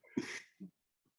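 A single close, sharp sneeze bursts out in a quiet studio during an improv comedy podcast. It is followed by a couple of faint breathy after-sounds, then silence.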